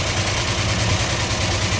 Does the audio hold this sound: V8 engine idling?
yes